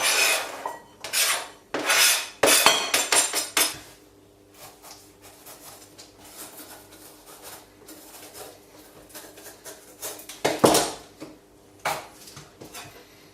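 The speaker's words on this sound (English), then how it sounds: "Best to always cut the veg quite thin." Vegetables for camper van pizza toppings being sliced thin on a board, a run of crisp knife chops and scrapes, loud and irregular, easing into softer rubbing before a final burst of cutting.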